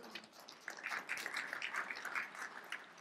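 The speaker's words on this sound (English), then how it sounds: "That's weak applause for that idea" Thin, scattered applause from an audience at a university community conversation event, fairly quiet and distant, lasting a few seconds with no talk.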